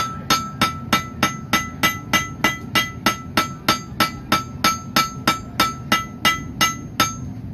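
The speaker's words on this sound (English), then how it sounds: "put this down flat on the anvil and hit it with the flat part of the hammer" A hammer flattens hot metal on an anvil in a steady, even rhythm, about two blows a second, each hit ringing sharply and clearly with no talking.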